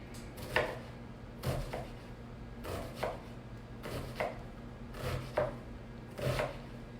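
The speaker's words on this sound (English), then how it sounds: "And then I'm going to chop it." Knife chopping food on a cutting board for turkey burger sliders, six evenly spaced close chops about a second apart over a low background hum.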